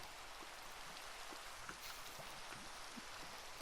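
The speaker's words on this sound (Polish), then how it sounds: "A mnie tutaj nawiedza ten deszcz. Ciągle pada na tym świecie." Rain falls steadily in a Minecraft world, a soft continuous hiss with faint patters scattered through it, then a sudden loud burst at the very end.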